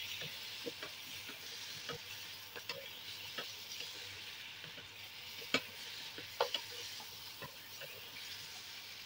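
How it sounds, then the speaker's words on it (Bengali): A pan of ground melon seed paste sautéing with a steady, quiet sizzle, broken by a few faint scrapes and taps of a spoon stirring it. "ভালোভাবে এটাকে কষিয়ে নাও"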